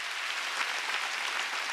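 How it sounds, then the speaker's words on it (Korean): Congregation clapping steadily during a Korean church worship service, a dense, continuous wash of many hands applauding together, fairly loud and close, with no speech over it. "박수치라 이게야."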